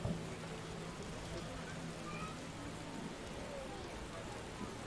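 Steady rain in The Witcher video game gives an even, continuous wash of patter with a faint low hum underneath, holding level throughout.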